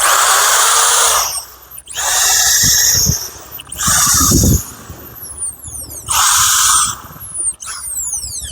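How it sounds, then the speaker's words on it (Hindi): Bosch hammer drill run in bursts, a high whining motor roar starting and stopping four times with brief pauses and low thumps between, close and loud. "बॉस कंपनी का हैमर ड्रिल है सर।"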